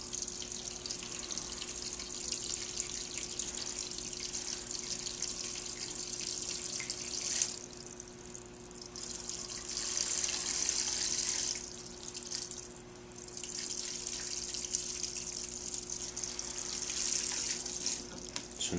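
Water rushes steadily out of the hot tank of a water dispenser, a continuous hissing flow with a couple of brief dips and surges, close by and with no talking.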